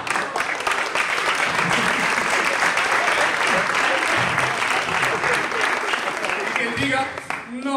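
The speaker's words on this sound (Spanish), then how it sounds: "¡Aplausos!" Audience applause from a comedy show crowd, dense and sustained clapping that fills the room at close range before tapering off at the end.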